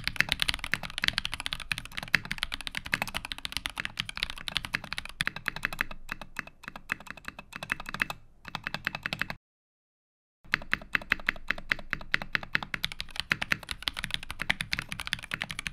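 Fast, steady typing on a mechanical keyboard with lubed stabilizers: a dense, muted stream of close key clacks that pauses for about a second midway, then resumes.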